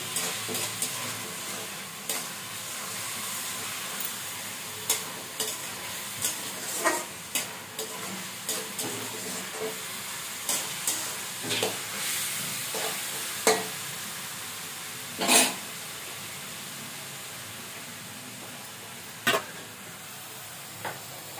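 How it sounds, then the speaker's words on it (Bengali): Steady, soft sizzling of greens frying in a pan, with occasional scrapes and clinks from stirring, no voices. "এবার আমি শাকটা একটু ভালোভাবে একটু ভাজা ভাজা করে নামিয়ে ফেলবো।"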